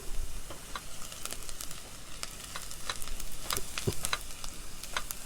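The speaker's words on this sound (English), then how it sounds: "we want to get that flavor out, which we'll get by browning those onions" Onions browning in a hot pan for a veggie chilli give off a steady, close sizzle, with crisp pops and spits scattered throughout.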